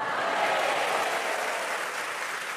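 Congregation applause at a revival service (KKR) in the GSJA Amazing Grace church in Kupang during a sermon: steady, dense clapping from many hands that holds for the whole stretch and eases slightly near the end.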